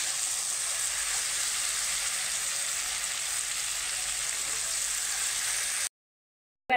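Prawns fry in hot oil for a Bengali potol chingri dish, giving a loud, steady, close sizzle with no talk, then cutting abruptly to silence near the end.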